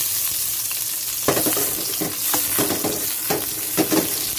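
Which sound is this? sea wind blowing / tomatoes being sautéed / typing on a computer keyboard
tomatoes being sautéed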